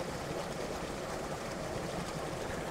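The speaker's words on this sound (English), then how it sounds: "there's a bit of a waterfall as the water comes out from this slightly higher, smaller body of water into the main moss" A small Lake District waterfall pours from a higher, smaller body of water into a main one, making a soft, steady broadband rush that is faint and continuous with no talk.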